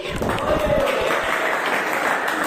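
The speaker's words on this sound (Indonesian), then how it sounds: "Tepuk tangan untuk kita hari ini." An indoor audience at a training workshop claps together in a brief, steady burst of applause that fills the room and holds at an even level throughout.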